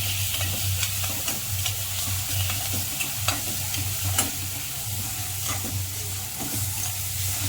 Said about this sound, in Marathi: आता टाकू आपण हे मिरची लसणाची पेस्ट, ते पण चांगलं भाजून घ्यायचं आपल्याला।